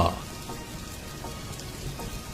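Steady patter of early-morning rain falling on a surface near a boat at a riverside landing, a soft continuous wash with scattered drops, no talking.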